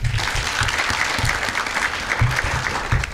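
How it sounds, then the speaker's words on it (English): Sustained applause from an audience at a college pitch competition, many hands clapping steadily throughout, fairly close and even in loudness. "give them a round of applause"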